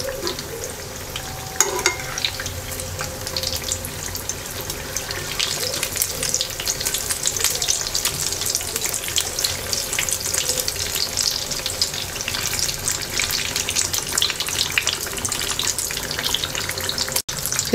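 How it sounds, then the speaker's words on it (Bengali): Eggplant slices frying in oil for crispy fried eggplant make a steady, dense sizzle and crackle, loud and close, holding even for the whole stretch with no talking. "বাকিগুলো ভেজে নিচ্ছি"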